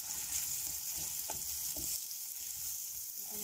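Onions with garlic and salt fry in a pan, giving a steady, bright sizzle throughout, with a few soft stirring scrapes in the first two seconds; no voices.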